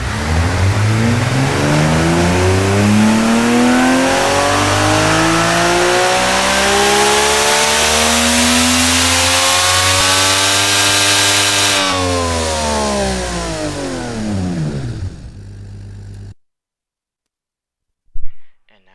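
A simulated car engine from the Automation tycoon game, a Mk4 inline six and an F1 engine, revs loudly with a steadily climbing pitch that peaks and then winds back down. It cuts off abruptly near the end, followed by a brief knock.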